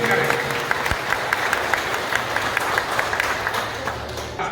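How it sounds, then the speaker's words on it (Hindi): A large audience at a village honour ceremony applauds steadily and loudly throughout, with a dense wash of clapping and faint crowd noise. "जोरदार तालियों से स्वागत करें,"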